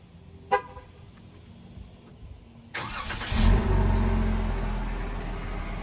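A Jeep Wrangler engine with a single exhaust pipe cranks and roars to life, then settles into a loud, steady rumbling idle, preceded by a short beep and faint clicks.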